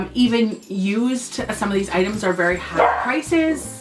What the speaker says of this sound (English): Sorry about the dogs freaking out in the back.